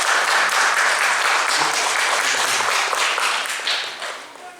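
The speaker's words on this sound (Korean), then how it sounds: "박수 좀 부탁드리겠습니다." An audience applauds a film director at a Korean independent film screening event, dense steady clapping filling the room before gradually fading out.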